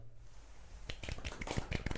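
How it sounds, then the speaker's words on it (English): A small handful of soft, sparse claps for the end of the 2018 season podcast, a light golf clap of quick close taps starting after a brief quiet moment. "Golf clap."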